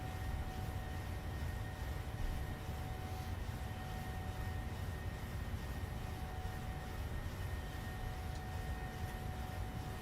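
PMDG 737-700 airliner climbing out in flight simulation, a steady loud broadband engine roar with a faint constant whine, continuous and unchanging throughout with no talking.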